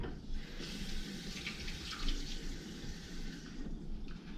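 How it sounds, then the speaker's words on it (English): Hands are rinsed under a running kitchen tap, a soft steady splash of flowing water with small surges as the hands move, quiet and close. "I'm just going to rinse my hands really quick"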